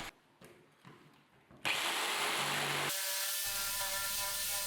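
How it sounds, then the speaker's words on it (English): A power drill with a bit boring a hole through a kitchen countertop, steady loud whine starting after a few faint knocks and shifting pitch midway as the bit works through the material. "I mark its position and drill a hole with a bit so that I can insert the jigsaw."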